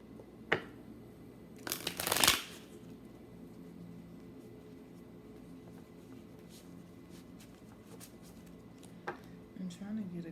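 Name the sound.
shuffling tarot cards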